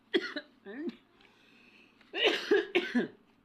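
A person coughs several times in two short clusters, close and fairly quiet, with a pause between them.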